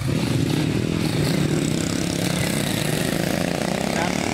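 A motorcycle engine drones steadily and loudly while riding, a continuous close rumble with wind noise throughout and no clear talk.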